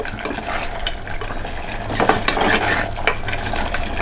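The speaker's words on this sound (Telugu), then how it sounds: "బాగా తిప్పుకోండి." Mutton curry is stirred in a pot, with a spoon scraping and clattering against the metal over a low simmer. The stirring strokes come in an uneven rhythm and are heard up close, with no talk.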